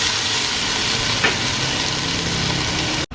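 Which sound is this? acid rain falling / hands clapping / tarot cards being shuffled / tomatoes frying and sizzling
tomatoes frying and sizzling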